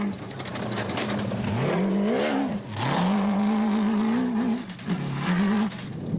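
Race car on a rally route during the Adenco 400 roars past, its engine revving up and down through gear changes in a loud, sustained, rising-and-falling drone.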